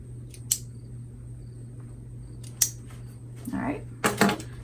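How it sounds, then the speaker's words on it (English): A few sharp, crisp snips of scissors, close and isolated, separated by quiet pauses over a low background hum. "I'm gonna clip my threads here right away"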